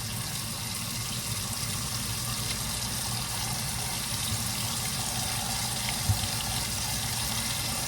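A tallow soap bar is rinsed under a running tap, producing a steady, even hiss of flowing water with a faint knock near the end and no speech.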